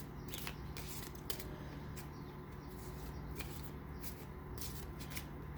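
Angel Oracle cards being shuffled by hand, a steady soft papery riffling and flicking with faint crisp snaps, low and continuous against a quiet room hum, no talking.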